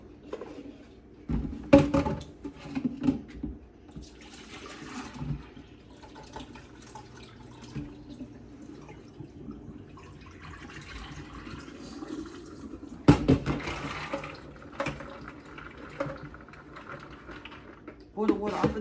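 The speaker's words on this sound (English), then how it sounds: "I'm gonna pour the water out of these." Soaking water from red beans soaked since the previous day is poured off in a steady, soft splashing trickle, with a person talking over it.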